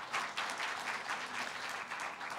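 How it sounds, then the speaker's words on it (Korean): An audience at the opening ceremony of a 2017 Seoul international forum gives warm applause, a dense, lively patter of many hands clapping close by, steady throughout. "박수 부탁드리겠습니다."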